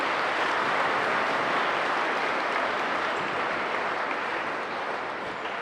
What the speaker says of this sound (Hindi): सो आइडियल एकेडमी और आइडियल इंटरनेशनल के इन प्रयासों के लिए जोरदार तालियां तो बनती है